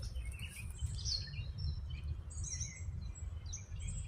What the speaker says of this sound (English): All the birdies chirping.